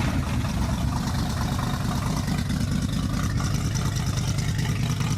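A 1967 Buick GS340 engine running at a steady idle just after starting, a loud continuous low rumble with no talk over it.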